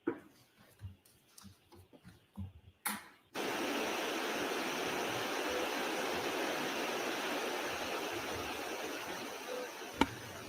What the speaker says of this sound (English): If they're gonna keep doing like playing like the white noise in our ears